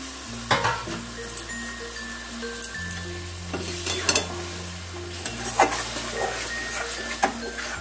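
Lote fish frying in a pan, a steady sizzle broken by repeated scraping and knocking as a utensil stirs it, close up under a low constant background hum.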